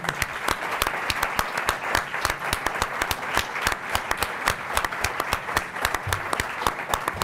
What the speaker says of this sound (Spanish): pedir que recibamos a Mónica Randall con un fuerte aplauso